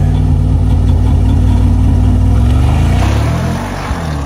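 A 2025 Mercedes-AMG G63 with a twin-turbo V8 during a race start launch, a loud deep rumbling engine held at high revs that climbs and then drops away near the end, no voices.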